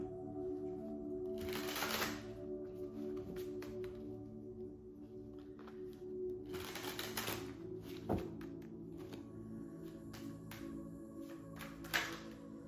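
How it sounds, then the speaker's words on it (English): Tarot cards are shuffled by hand in a quiet room, with several short bursts of riffling and a few soft taps and clicks between them, all faint and close. "I'm gonna pull some tarot."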